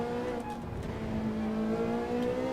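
Race car accelerating out of the bus stop chicane after braking, engine pitch climbing steadily through a gear with a close, continuous rising whine.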